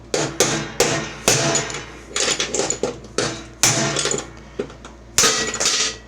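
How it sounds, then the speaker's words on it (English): A hammer strikes a punch to drive the spindle bearings out of a Mastercraft 46-inch riding mower. Loud, ringing metallic blows land close up in an uneven series of about a dozen hits, some in quick pairs. "We'll just get a punch and a hammer."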